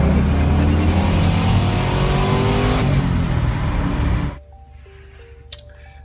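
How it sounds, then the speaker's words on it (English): Twin turbo Mustang engine accelerating hard, a loud continuous rev with rising harmonics and a rough fluttering quality around 3,500 RPM, cutting off abruptly near four seconds to a quiet background with faint tones. "It started to flutter quite violently"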